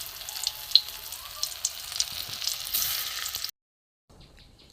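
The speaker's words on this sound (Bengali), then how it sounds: "এইভাবে আমি সবগুলো ভেজে নেব" Soybean pakoras deep-frying in oil give a steady close crackling sizzle with brief pops for about three and a half seconds, then it cuts off abruptly into near silence with only a faint trace of sizzle.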